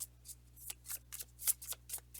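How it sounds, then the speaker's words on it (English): Tarot cards are shuffled in quick, crisp riffling bursts, each a short papery flutter repeated in an uneven rhythm, close by and quiet, with no voices. "sorry about all the shuffling."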